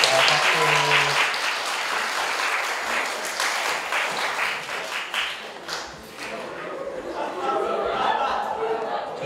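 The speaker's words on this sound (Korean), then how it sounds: "박수." Students and audience applaud at a high school admissions information session, a dense burst of clapping that thins out midway and then swells again, with voices and light laughter underneath.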